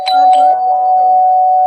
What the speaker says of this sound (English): Somebody ringing my doorbell.